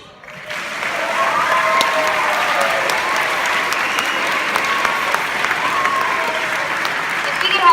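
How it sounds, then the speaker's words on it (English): A middle school beginning band winter concert audience breaks into applause for student award recipients, clapping swelling in quickly and continuing as a dense, loud, sustained patter. "You can get a second round of applause"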